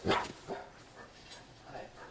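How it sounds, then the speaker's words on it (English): A dog barks in a Walking Dead Season 10 episode: one sharp bark up front, then softer yips and whimpery sounds, all fairly faint and distant. "Oh, dog."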